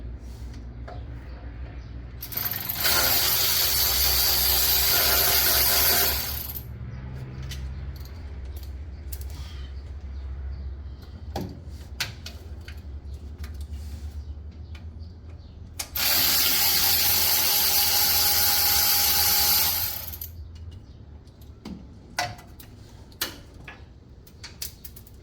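A ratchet works oil pan bolts loose on a D-150 truck, with quick bursts of rapid ratcheting clicks alternating with quieter clinks and handling sounds.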